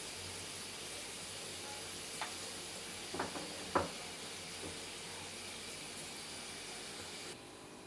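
Potatoes fry in a pan with a soft, constant hiss, while a few light clinks and scrapes from stirring come through in the middle.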